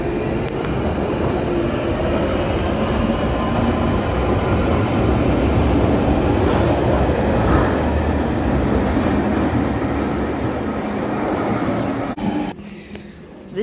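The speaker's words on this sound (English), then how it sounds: "This train is about to depart." London Underground Northern Line train pulling out of a narrow island platform at London Bridge, a loud steady roar of wheels and motors with some squeal, fading near the end.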